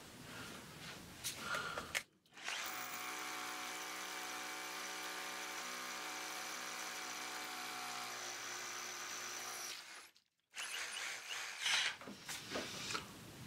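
An AEG Pneumatik 3000X cordless rotary hammer drills with an 8 mm bit in hammer mode, giving a loud, steady buzzing, hammering roar for about eight seconds, with brief handling and shuffling noises before and after.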